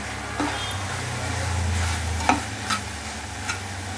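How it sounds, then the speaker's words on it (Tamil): Ingredients for a crab pepper gravy sautéing in a pan give a steady, close frying sizzle, with a few sharp utensil scrapes and taps scattered through. "நல்லா வதங்கிட்டே இருக்கட்டும்"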